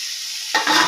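Spinach leaves dropped into a hot pan for a palak potato stir-fry burst into a sudden loud sizzle halfway through, after a quiet hiss, with stirring scrapes following.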